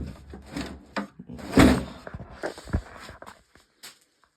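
Wooden drawers slide and knock in a shed full of stored stuff, giving irregular scrapes, rubs and thumps up close. The loudest bump comes near the middle, and quieter taps and shuffles follow.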